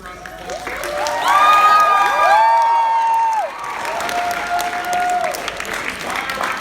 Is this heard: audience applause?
yes